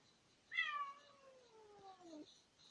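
A single drawn-out cat meow, clear and close, sliding downward in pitch and lasting well over a second against quiet background.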